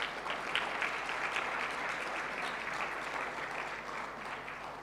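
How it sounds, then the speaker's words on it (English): Generous applause from an audience at a bank trade roadshow event in Jamaica, a sustained dense round of clapping that holds steady and fades slightly toward the end. "Thank you very much for your generous clapping."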